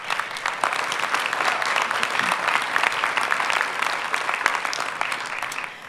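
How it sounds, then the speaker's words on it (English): Conference audience applauding at a patient advocacy gathering, a steady wash of clapping hands sustained for about six seconds before tapering off at the end. "we just need to take a moment and applaud ourselves,"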